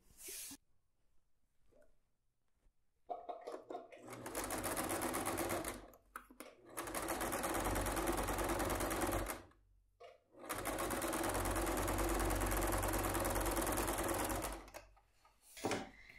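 A sewing machine stitches a seam through fabric lining for a small box-style zip pouch, running close and loud in three long bursts of fast mechanical whirring with short pauses between them.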